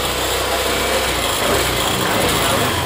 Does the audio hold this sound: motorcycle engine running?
yes